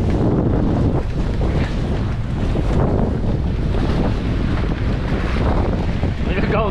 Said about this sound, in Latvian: Te ir diezgan stingrs tas vējš.